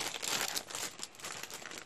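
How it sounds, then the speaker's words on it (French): Embroidery floss for a Disney cross-stitch project being pulled from crinkly plastic packaging, giving a close, continuous crackling and rustling with no talking. "pardon pour le bruit, c'est que je vais enlever les cotons."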